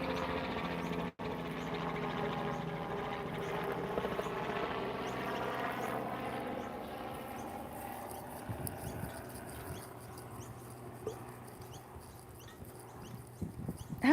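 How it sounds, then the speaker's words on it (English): A helicopter drones overhead during an outdoor walk at Breakfast Point in Sydney, Australia, its low rotor throb steady and fairly faint, then fading toward the end. "Hello, helicopter."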